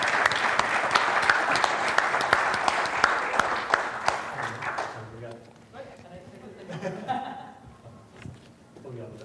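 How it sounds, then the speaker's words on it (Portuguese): Audience applause for an award winner at a digital transformation summit prize ceremony, a dense sustained clapping that runs about five seconds, then thins and fades out under murmuring and a voice. "Palmas para o vencedor."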